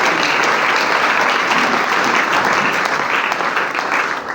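Church congregation applauding to acclaim the Lord, a dense, steady wave of clapping held at full strength for about four seconds, loud and close with a faint murmur of voices underneath.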